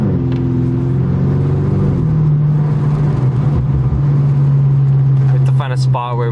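A 2018 Audi S6 with brand-new intakes revs up at higher RPM, a loud steady engine drone with rising tones near the end, heard close from inside the car.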